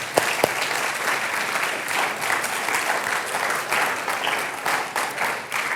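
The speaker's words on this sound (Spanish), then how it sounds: "Denle un aplauso, Señor." A church congregation applauds during a sermon, with dense, steady clapping sustained across the whole stretch.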